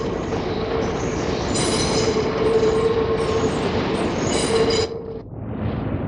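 A British Railways Southern Region 2-BIL electric commuter train runs close by with a loud, steady rumble of wheels on track, high squeals rising and falling, then fading as it passes.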